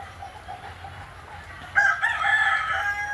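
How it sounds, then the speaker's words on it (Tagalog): A rooster crows partway through, a loud drawn-out call over quiet background noise. "May manok pa."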